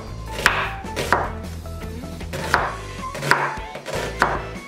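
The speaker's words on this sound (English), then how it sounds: "you want to cut this onion like really thin." An onion sliced thinly with a knife on a cutting board, about six crisp, evenly spaced chops standing out over a steady background hum.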